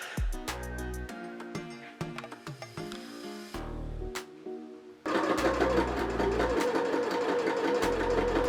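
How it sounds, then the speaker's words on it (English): A sewing machine stitches the hem of a fan skirt, running continuously under prominent background music that grows louder and denser partway through. "Sewing the hem seemed to take forever."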